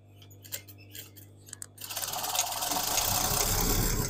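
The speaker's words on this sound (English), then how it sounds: "It's not easy stitching thin elastic on top of other thin elastic" A few scattered clicks and taps come first, then a sewing machine runs steadily and loudly, close by, as it stitches thin elastic over elastic at the waist of a maxi dress.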